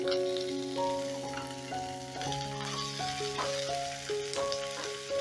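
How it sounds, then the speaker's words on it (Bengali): Onion, garlic and ginger fry in a pan after peanuts, a soft continuous sizzle that sits beneath louder melodic background music throughout. "এবার পেঁয়াজ রসুনটা একটু ভাজা ভাজা হলে টমেটোটা দিয়ে দেব।"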